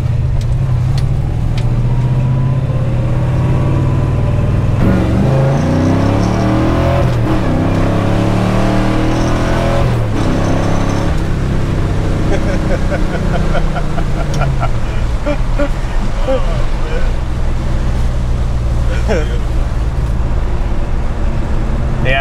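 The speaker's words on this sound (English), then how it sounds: "I'm shifting early and I'm being a baby on the clutch." A 1961 Pontiac Catalina with a 421 V8 and four-speed manual roars loudly while accelerating, revs rising and dropping through several gear shifts, with a speaking voice heard over the engine.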